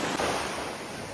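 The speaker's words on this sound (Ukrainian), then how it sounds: "до моря хочеться йти, щоб послухати шепіт хвиль, прогулятися по пляжу" Sea waves washing onto a beach on the Black Sea coast at Chornomorsk, a soft, steady surf hiss mixed with wind noise, brief and fairly quiet.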